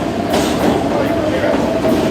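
Subway train rolling into a station on a commute, a loud, steady rumble with rail clatter and rushing noise filling the whole stretch, voices faintly audible beneath.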